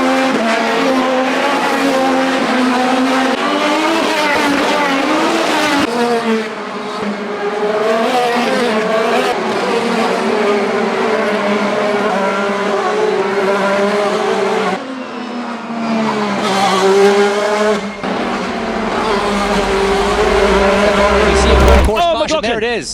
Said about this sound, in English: when the green flag flies, we will be racing, and we are racing, and Colton Herter immediately with the adva